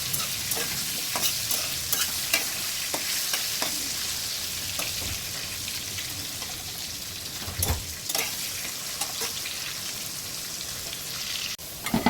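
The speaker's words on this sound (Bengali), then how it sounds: "আলুটা জাস্ট ভেজে নেবো, আর আলু ভাজার মধ্যে নুন অ্যাড করে দিচ্ছি।" Potato pieces frying in a pan with salt and turmeric, giving a steady close sizzle with repeated scraping and clattering stirs throughout and no talking.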